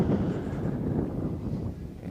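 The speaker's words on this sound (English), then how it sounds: "Blustery day out here in this windy April match" Gusting wind on a blustery April day at an outdoor soccer match, a low rumbling buffeting that surges and eases, loud and close on the microphone with no clear voices.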